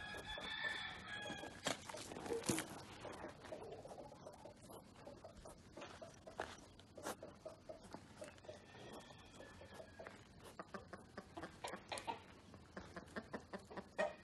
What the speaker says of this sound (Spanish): aquí por primera vez conoce una gallina, Juana, una de las habitantes del santuario